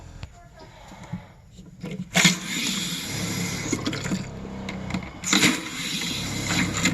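Water running from a tap in an RV during winterizing, flooding the drain trap: a steady watery hiss and splash that swells in two louder bursts while a person talks over it.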